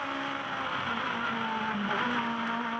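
Small Aussie Racing Cars running a race lap in Queensland, heard from onboard as a steady engine drone with a whirring tonal note that shifts slightly as the car rides over track bumps, loud and continuous with no talk.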